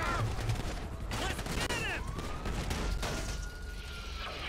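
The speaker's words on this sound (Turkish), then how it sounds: "Öyle bir patlama yapacağım ki şu an." Explosion and rapid gunfire during a police fight in GTA 5, with bursts of shots, crashes and sweeping siren tones layered densely over a few seconds, with a faint voice underneath.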